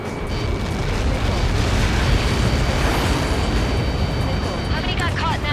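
A huge, sustained explosion roars in the Ace Combat 7 flight game, a dense, continuous rumbling blast filling the whole span at high loudness, with a faint voice underneath.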